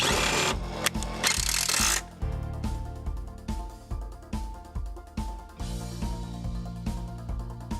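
A power screwdriver drives screws through sail track into a caravan side wall, with a rapid burst first and then a run of evenly spaced, pulsing ratchet-like bursts heard up close, no talking.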